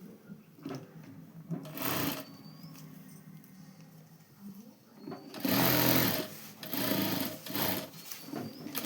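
A sewing machine stitches the lining onto a sleeve, sounding in close bursts of rapid rattling whir separated by pauses, with brief quiet movement noises between runs.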